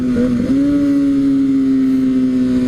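A Kawasaki Ninja ZX6R sport motorcycle rides into a curve, its engine holding a loud, steady droning note with a brief dip and recovery at the start, heard close with constant wind rush.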